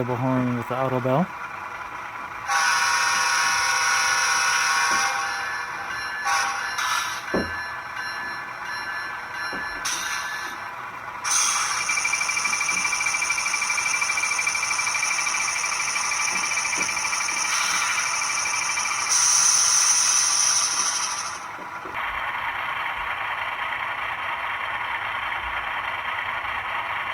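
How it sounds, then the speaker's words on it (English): A ScaleTrains Rivet Counter model of a CN GE ET44AC Tier 4 GEVO locomotive sounds its playable horn with the automatic bell. Several sustained horn blasts ring out over a low, steady engine hum, separated by quieter gaps. "There's a playable horn with the auto bell."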